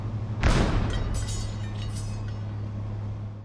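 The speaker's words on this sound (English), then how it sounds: "The boiler explosion is my most complex VFX graph so far." An overheating boiler bursts in the indie game Clomper, a single loud blast with a sharp onset followed by a long crackling, rumbling decay over a steady low mechanical hum.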